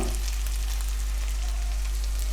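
Small onions fry golden brown in a pan for egg gravy, giving a continuous close sizzle over a low steady hum.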